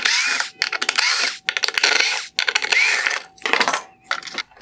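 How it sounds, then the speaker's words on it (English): Screwdriver or power driver backing out T20 screws from the lower high beam mount of a 2019-2021 Infiniti QX50 LED headlight, with bursts of whirring and clicking separated by short pauses, close and fairly loud. "Next, I'm going to remove the T20 screws holding in the lower high beam mount."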